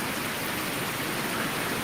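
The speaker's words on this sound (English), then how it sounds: "So it's raining a little bit, which, you know, I'm okay with." Light rain falling outdoors, a steady, even hiss of drops throughout with no voices.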